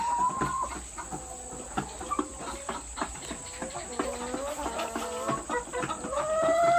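Laying hens kept as a side business cluck and chatter steadily up close, with overlapping short calls from several birds and a faint crow-like note, over a constant background hum.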